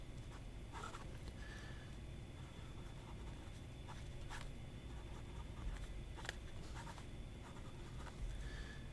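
A fountain pen with a wet Nagyata nib scratches and glides across paper in short, intermittent strokes, close and quiet over a faint steady background hiss.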